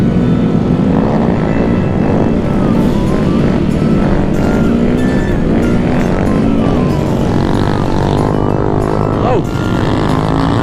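A Honda Grom motorcycle revs hard through wheelies on a group Halloween ride, its engine a loud, constant drone with rising and falling pitch, while a voice exclaims over it.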